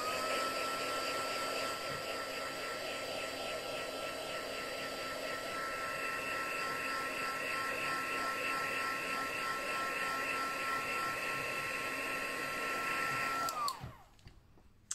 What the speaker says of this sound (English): I'm literally going to put a quick blast with the heat gun just to give it a chance to dry.